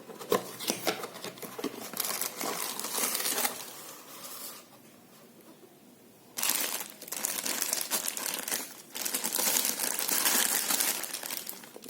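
Packaging for a silicone rubber product crinkles as it is unboxed, with close, steady rustling in long bursts that pause briefly midway and then resume, and no talking.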